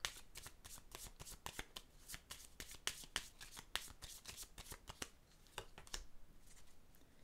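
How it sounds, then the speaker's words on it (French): Tarot cards are handled and drawn in a quick series of crisp, soft flicks and riffles, with rapid irregular snaps over several seconds at low volume. "Je vais piger une autre carte."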